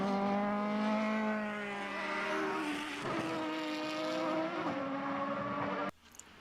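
A Formula BOSS race car engine screams along the track in Ireland, its pitch rising and dropping through gear changes, loud and close before cutting away abruptly.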